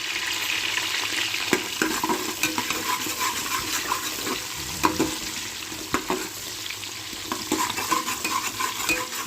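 Chopped onion fries and is stirred in a pan for pudina rice, a steady close sizzle with repeated scraping stir strokes and occasional spatula knocks.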